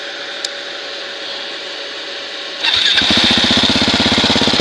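A 2017 Husqvarna 701 Enduro single-cylinder motorcycle engine cranks and fires after a quiet stretch with a short click, then settles into a loud, steady, rapid idle that continues to the end.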